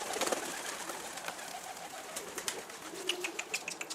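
Tumbler pigeons, Turkish playing birds, cooing and fluttering around a coop outdoors, soft repeated calls and short rustles scattered among faint background noise.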